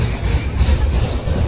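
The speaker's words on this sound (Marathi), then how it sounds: "लहान मुलांचे ट्रेन." A children's ride train at a fair rumbles past close by, a steady low engine drone without clear breaks across a moment and a half.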